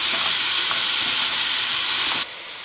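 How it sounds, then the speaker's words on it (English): Onions and bacon fry in a pot with a loud, steady sizzle and hiss, while a spoon stirs through them with faint scraping, until the sizzle cuts off sharply near the end. "Give it a good stir here."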